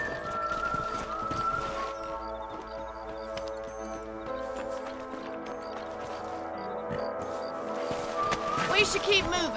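Rhythmic clip-clop of horse hooves while riding in Red Dead Redemption, steady trotting beats under a music score, with someone speaking over them for much of the time.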